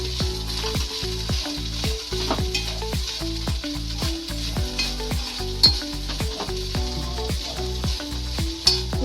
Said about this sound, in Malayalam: അഞ്ച് മിനിറ്റ് ആയിട്ടുണ്ട് ഇനി നമുക്കിത് ഇളക്കി കൊടുക്കാം